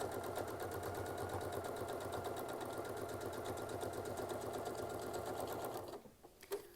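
A sewing machine runs steadily through free-motion quilting, a fast even stitching drone close by that stops abruptly near the end, followed by a few light handling clicks.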